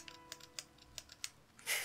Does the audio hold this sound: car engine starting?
no